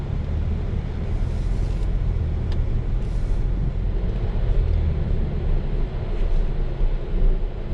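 A Lincoln Navigator reverses during a test drive, giving a steady, fairly loud low engine and road rumble inside the cabin that lasts the whole stretch without a break. No one speaks.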